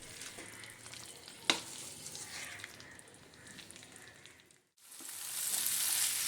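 Potatoes and cauliflower sauté in a pan with a soft, steady sizzle and a single sharp clack of a stirring spoon, then a brief lull before a brighter, louder hiss takes over, close and without talk.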